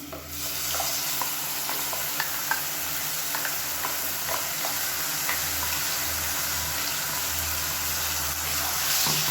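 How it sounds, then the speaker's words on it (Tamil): Onion paste sautéing in oil with cumin and curry leaves, a constant close frying hiss with light ticking spatula scrapes and a low rumbling hum underneath. "அதை சேர்த்து நல்லா வதக்கிக்கலாம்"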